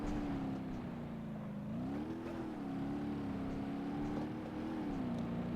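A Gavril Barstow car engine in the BeamNG.Drive driving game drones steadily at low revs, its pitch rising and dipping slightly as it strains in low gear, alone with no talk.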